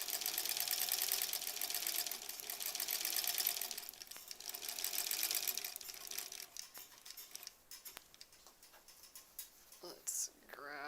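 A sewing machine stitches quickly along the edge of a quilt block in a steady rapid whirring run that pauses, restarts, then stops, followed by scattered clicks and handling sounds.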